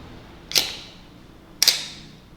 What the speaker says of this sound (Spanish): Si presiono este botón van a ver cómo se baja una cortinilla. Ese es el obturador.